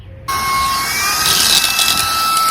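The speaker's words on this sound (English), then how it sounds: "Let's see if it could suction a penny." A sleek portable car vacuum cleaner starts up abruptly and runs with a steady, loud high-pitched motor whine and rushing suction as it pulls up a penny, with a brief rattling clatter partway through.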